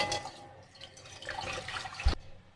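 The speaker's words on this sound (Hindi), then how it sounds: "अब इसमें 3 लीटर पानी हम डाल लेंगे।" Water poured into a cooking pot set on a stove while making sweet zarda rice, a steady splashing and trickling pour close by that ends with a brief heavier splash.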